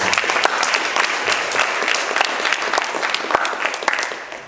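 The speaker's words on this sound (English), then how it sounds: "so can we give them a round of applause?" Loud, energetic applause from a crowd at a community meet-and-greet event thanking the volunteers, continuous clapping that holds steady and tapers slightly at the end.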